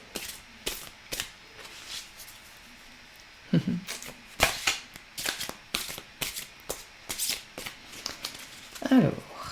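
Tarot cards being shuffled by hand, a series of short crisp riffling bursts and soft slaps at uneven intervals, close and fairly quiet, while a person talks intermittently in the background.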